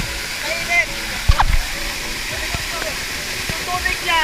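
Busay Falls in Santa Elena, Camarines Norte, pours into a deep pool, making a steady broadband rush throughout with a few splashes near the middle and people talking over it.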